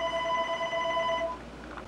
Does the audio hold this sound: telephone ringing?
yes